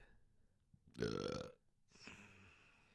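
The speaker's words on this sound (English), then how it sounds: "What, the burp?" A single loud, close burp lasting about half a second, followed by a brief quieter trailing sound in an otherwise quiet room.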